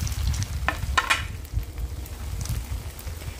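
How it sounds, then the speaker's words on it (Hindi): Semolina sweets frying in moderately warm oil in a pan, a steady close crackle and sizzle with a few brighter stirring scrapes early on. "तो हल्का गर्म तेल में डाल करके इसको ऊपर नीचे करके हम तल लेंगे"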